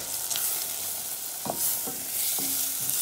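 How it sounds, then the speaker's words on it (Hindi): Flour fries with onion in a pan, a steady soft sizzle under a few distinct scraping stirs spaced about half a second apart, close and moderately loud. "1 मिनट के लिए मैदा को भून लिया"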